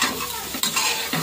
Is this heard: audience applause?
no